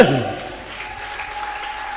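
A church congregation breaks into applause, starting loud and quickly settling into a steady, moderate clatter of clapping hands that carries on under a faint sustained tone.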